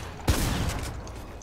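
A single sharp sniper shot cracks out in a video game, one loud close report followed by a brief fading rumble, with no talking.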